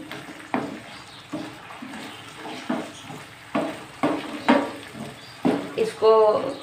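Potatoes frying in a pan on a medium flame for aloo methi sabzi, a soft steady sizzle with recurring scrapes and stirring knocks, up close, with brief talk in between.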